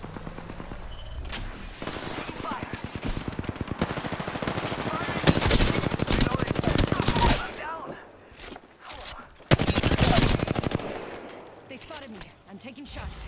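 Rapid automatic gunfire from the Apex Legends video game rattles in long bursts with sharp single shots between, loud and close, over a background game mix.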